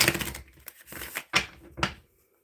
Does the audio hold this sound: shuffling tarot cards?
yes